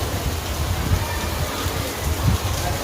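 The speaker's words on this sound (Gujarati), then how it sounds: "હજી વરસાદ ચાલુ છે" Steady rain falling outside a home, a continuous close hiss and patter with no pauses.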